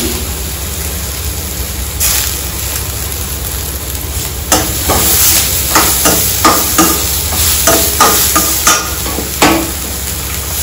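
Oats upma with curry leaves and mint is stirred in a pan, a low frying hiss punctuated by a run of regular, fairly loud scraping strokes in the second half.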